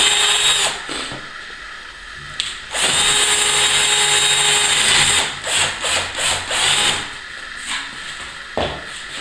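A power drill bores two aligned holes straight through a wooden door to fit a handle, whining in loud bursts with short pauses and uneven bite as the bit cuts through.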